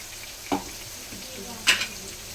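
Coriander powder, cumin powder and salt fry in a pan for paneer manchuria, a faint steady sizzle broken by two short scraping stirs, with no talk over it.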